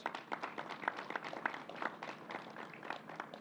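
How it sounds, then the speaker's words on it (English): An audience applauding graduates at a New York COVID briefing, dense overlapping claps at a steady, moderately loud level, with no speech over it. "Let's give them a round of applause."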